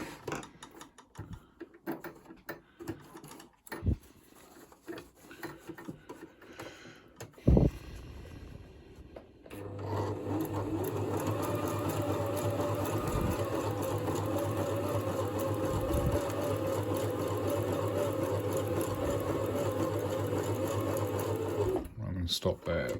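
A sewing machine runs a zigzag stitch around the edge of a thick fabric mask, a steady mechanical whir and rapid ticking that starts after scattered handling clicks and stops near the end.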